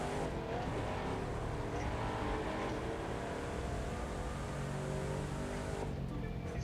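Classic car spinning out while racing in the video game The Crew 2, a continuous loud engine roar with tire noise that holds steady throughout.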